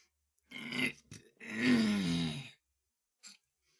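A low, throaty growl voiced by a person trying to get rid of hiccups, two close rough bursts with a short pause between them, followed by a faint brief sound.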